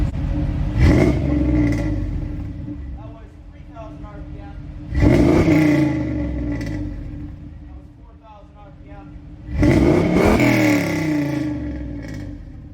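A big V8 engine in a Chevrolet Camaro with a Flowmaster 80 exhaust revs three times in loud, throaty bursts up to 5,500 RPM, each swell rising and falling back to a deep rumbling idle, heard from close by.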